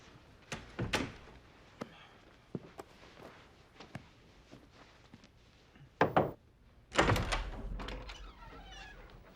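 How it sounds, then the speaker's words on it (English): An office door is shut in a TV drama scene: a couple of dull thuds and a sharper knock land late among faint scattered shuffling and small bumps, with no talking. "Charlie, close the door"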